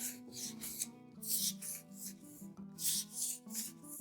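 Sandpaper soaked in water rubs across a plaster slab used for drying clay, in slow repeated strokes. Each stroke is a soft, close swishing scrape, and a faint steady hum runs beneath it.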